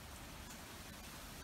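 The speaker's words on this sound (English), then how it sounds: "getting pretty strong gusts of wind and rain" Rain and wind from the start of a tropical storm make a steady, dense hiss of falling water with no distinct gusts or voices, fairly faint and continuous throughout.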